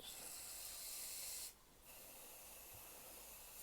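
A steady, breathy hiss of a fine water spray misting a reptile enclosure runs continuously, briefly cutting out and then resuming slightly softer, close by and with no voices.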